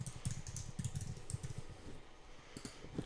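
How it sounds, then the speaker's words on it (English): Login details are typed on a computer keyboard, a quiet, steady run of close key taps with uneven rhythm and no talking. "and then just type that in."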